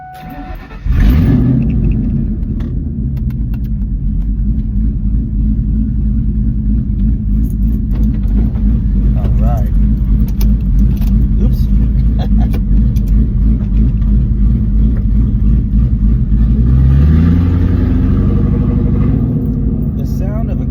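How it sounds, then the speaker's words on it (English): A 2001 Ford Mustang GT V8 cranks and catches on a warm start about a second in, then settles into a loud, steady rumbling idle that swells briefly near the end. "we're gonna give her a little bit of another warm start and we'll be on our way"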